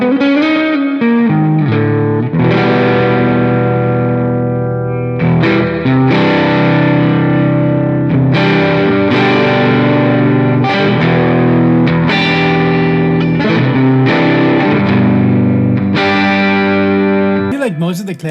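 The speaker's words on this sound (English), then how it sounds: "Let's give it a tiny bit of distortion." Electric guitar run through a distortion effect in AmpliTube 5 software, playing loud, sustained chords and notes with a gritty, buzzing tone and a chorus-like shimmer, with no talking over it.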